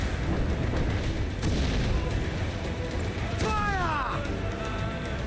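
Cannon fire in the pirate game Assassin's Creed IV: Black Flag, rumbling booms over a dense battle din, with a voice audible partway through.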